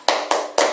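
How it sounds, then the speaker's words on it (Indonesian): Three sharp, evenly spaced group claps ring out close and loud, a rhythmic P2K2 clap pattern performed by a group of women at a family-empowerment session, with no talk over them. "Kita coba ya. Tepuk P2K2."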